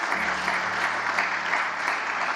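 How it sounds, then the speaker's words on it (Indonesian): A youth church congregation applauding enthusiastically, a dense steady roar of clapping with a low sustained instrumental tone beneath it. "Berikan tepuk tangan yang paling meriah buat Tuhan kita"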